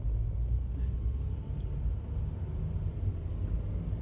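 Car engine heard from inside during a driving lesson, a steady low rumble as the revs build before a gear change, fairly quiet and unbroken.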